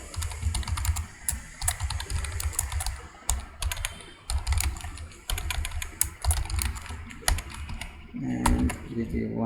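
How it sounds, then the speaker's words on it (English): Computer keyboard typing in bursts of quick clicks with short pauses while a voice talks over it, then steadier keystrokes near the end. "let me type one thing"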